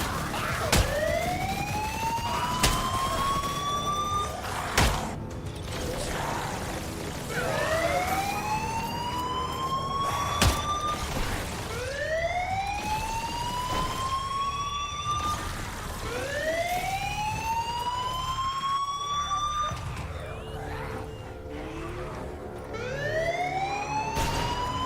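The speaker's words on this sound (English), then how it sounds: "Oh, these sirens are annoying me." Repeated wailing sirens in the Fortnite video game rise and fall in long sweeping cycles, loud and continuous over a steady background hum with no talk.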